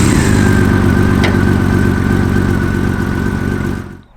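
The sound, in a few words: six-cylinder touring motorcycle engine running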